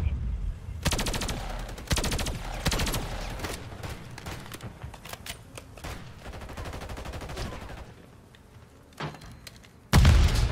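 Rapid machine gun fire from a turret in a video game, long sustained bursts of dense rattling shots with brief pauses and a final loud burst.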